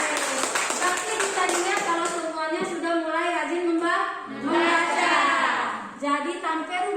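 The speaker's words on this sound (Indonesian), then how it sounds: "Tepuk tangan untuk kalian." Students in a classroom clap together while voices sing or chant over the patter, the hand claps fairly light and partly buried under the children's voices throughout.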